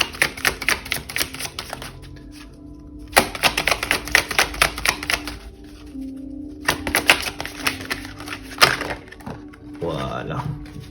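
Tarot cards being shuffled at close range, long rapid riffling bursts broken by short gaps, ending with slower single card slaps as cards are drawn, with faint speech underneath.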